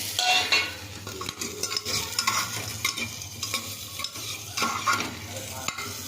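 Mutton paya soup ingredients frying in a pan, a soft steady sizzle broken by repeated scraping and stirring strokes of a utensil against the pan, close and moderately quiet.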